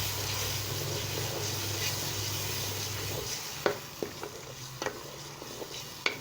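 Tomatoes sizzle in a hot pan with dried coriander, a steady frying hiss broken later by several sharp scraping stirs of a utensil against the pan, close and without talk.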